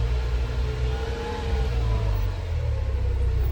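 A CFMOTO U10 PRO utility vehicle pulls away gently on a farm field, its engine giving a steady low hum and smooth mid-range drone, close and moderately loud with no talking.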